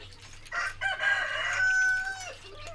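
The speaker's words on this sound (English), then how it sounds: "the rooster." A farm rooster crows once during morning chores, a single drawn-out cock-a-doodle-doo rising then trailing off over about two seconds, moderately near, over a low steady hum and faint background noise.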